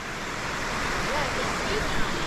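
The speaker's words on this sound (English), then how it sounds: "we're here at the thermal pool by the waterfall here in Colombia" Waterfall pouring beside a thermal pool in Colombia: a steady, dense roar of falling water that stays even and unbroken throughout, fairly close and with no voices over it.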